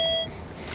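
Nokta Legend metal detector sounding off over a zinc target outdoors: a steady, clear electronic tone that holds briefly, then cuts off, with a short louder blip at the end.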